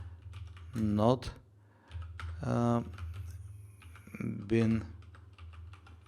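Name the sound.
typing commands on a computer keyboard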